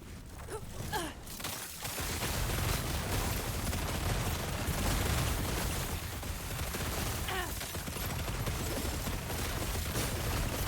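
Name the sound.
bombs exploding in a video game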